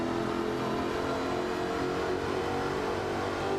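Supercharged 5-litre V8 car engine in the Forza Horizon 4 racing game, revving steadily and loudly inside a tunnel with a dense, reverberant drone throughout, no talk.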